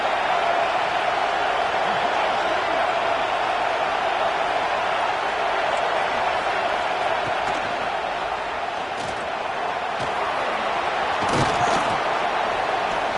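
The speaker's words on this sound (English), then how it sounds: "This crowd rising up, sensing that its defense needs some help." Football stadium crowd roaring, a dense continuous wall of cheering noise from a large audience, steady and loud with a few brief thumps and shouts poking through.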